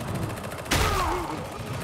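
A single sharp shotgun blast in the game Darktide cuts through steady background din, a sudden near bang with a short ringing tail.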